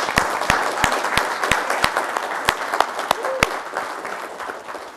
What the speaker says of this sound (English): I think you deserve a great big round of applause